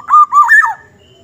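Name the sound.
black-naped oriole (kepodang) calling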